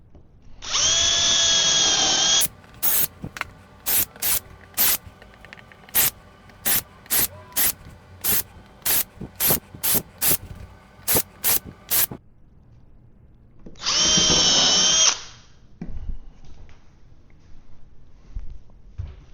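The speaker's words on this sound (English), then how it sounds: "I'm gonna use the little drill with the countersink to pre-drill those holes first before I fasten it." A small drill fitted with a countersink bit pre-drills screw holes, with two long sustained whining runs at the start and near the end and a rapid series of short bursts between them, close and loud.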